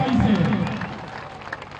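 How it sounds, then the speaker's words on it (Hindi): A crowd at a political rally in Bihar claps together, a dense burst of applause that is loudest at the start and thins out slowly, with voices mixed in. "अब बजा लीजिए ताली एक बार"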